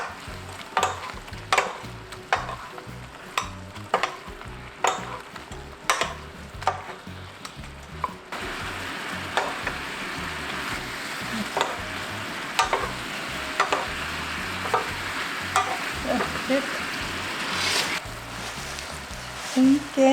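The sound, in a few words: stirring braised tofu with garlic and peppers in pan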